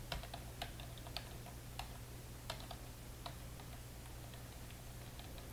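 Computer keyboard keys pressed during a roguelike dungeon game: sparse, crisp clicks at an uneven pace, sometimes in pairs, over a steady low hum with no talk.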